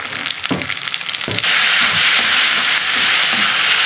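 Chopped tomatoes dropped into onions frying in hot oil, a few clattering taps followed by a sudden loud, steady sizzling hiss that fills the space and holds strong, close up with no talking.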